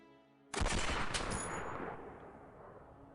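In the X-Com Files video game, AK rifle gunfire erupts suddenly after a quiet moment as a loud, sharp burst that rings out and slowly decays into a lingering echo.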